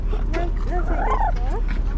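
A small, fluffy two-year-old dog yaps in short bursts inside a Tokyo café in Daikanyama, the barks overlapping with steady café chatter and background voices.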